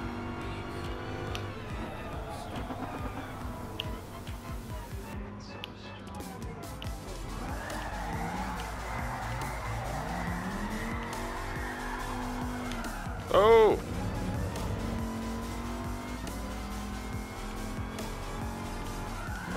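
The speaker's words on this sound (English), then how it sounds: "This car was pretty great to drift with." Gran Turismo Sport race car drifting, its engine droning and revving steadily while tires squeal through a long slide, with a brief sharp screech near the end and a voice talking over parts of it.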